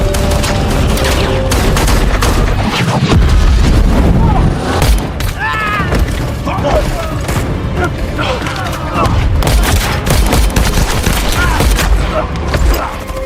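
Continuous loud battle din from a film, with booming tank-fire blasts and rapid bursts of gunfire, dense and chaotic throughout, with voices mixed in.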